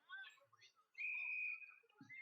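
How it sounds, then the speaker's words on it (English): A referee's whistle blows during an American football game, a sustained shrill tone lasting about a second after brief crowd noise and a short earlier chirp. "Whistle blown."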